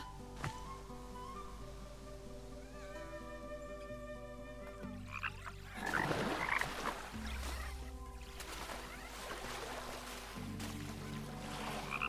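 Frog croaks in the video game Kena: Bridge of Spirits sound softly over sustained ambient game music, with a louder burst of splashing, rustling effects around the middle and again near the end.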